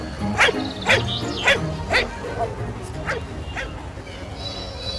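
A dog barks and yips in a quick series of sharp, close barks, about six in a row that thin out toward the end, with a faint whimper.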